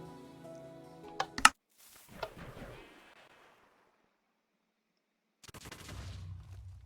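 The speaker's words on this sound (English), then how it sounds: "the TNT actually explodes at this distance" Minecraft redstone railgun cannon firing TNT, a sharp cluster of clicks and a crack, a short burst of explosion noise, a silent gap, then a second rough blast trailing into low rumble, all faint.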